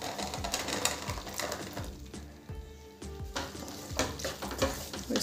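Boiled peas go into frying masala and are stirred: a soft, continuous sizzle with rapid rhythmic scraping and tapping of a spoon in the pan, fairly quiet and close, no talking.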